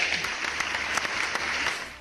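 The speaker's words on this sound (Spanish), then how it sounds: "un aplauso" Applause from a studio audience on an Argentine talk radio show, a dense, steady clapping that fills two seconds and fades slightly at the end.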